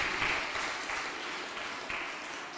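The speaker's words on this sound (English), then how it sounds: "So a huge round of applause for him." Audience applause at the finale of a squash challenger tour event at a Mumbai club, a steady wash of clapping that holds throughout at moderate, slightly distant level.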